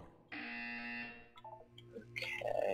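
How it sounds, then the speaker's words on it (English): A game buzzer in Portal 2 sounds as a single sustained electronic tone of about a second, clear and fairly close, followed by shorter beeps and other game sounds. "When you hear the buzzer, look down at the floor."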